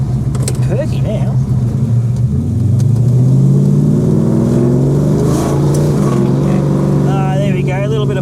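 A Ford 351 Cleveland V8 fed by a Holley carburetor revs in steady, rising and falling throbs with a brief bog, loud and close throughout, with a voice talking over it.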